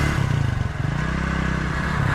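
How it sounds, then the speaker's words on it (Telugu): A motorcycle ridden along a road gives a steady, close engine drone with a rough, pulsing low rumble that holds level throughout, alone with no voices. "చూడండి మనోడు ఎంత జాగ్రత్తగా బండి నడిపిస్తున్నాడు"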